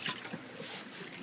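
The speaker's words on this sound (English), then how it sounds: "I'm also going to dump the water that was present." Water is dumped out of a XERO Pure MAX filter bowl in a brief, soft trickle and splash, faint and close, with no one talking.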